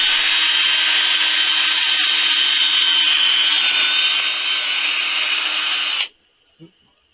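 Sandpaper at 400 grit is pressed against a spalted maple bowl spinning on a wood lathe, making a loud, steady whirring hiss close by for about six seconds before it cuts off abruptly, leaving near silence and one small knock.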